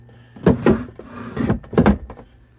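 Two large clothing drawers in the V-berth of a 1984 Sabre 32 Tri-Cabin sailboat slide open and shut in quick succession, giving close, woody thumps and rumbling slides in two clusters with brief quiet between, no voices.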